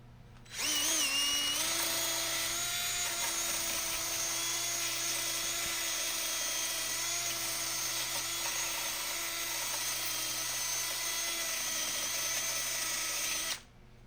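A drill-mounted wire brush whirs steadily for about thirteen seconds, scrubbing the rough underside of a dry burl wood bowl; the motor starts and stops cleanly, with a high, even whine and no talk.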